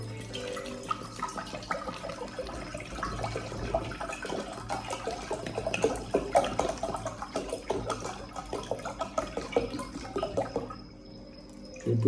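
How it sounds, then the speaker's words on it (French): Tap water pouring and splashing steadily into a white basin, a continuous running, trickling flow that stops near the end, heard alone at close range. "Vous versez l'eau dedans."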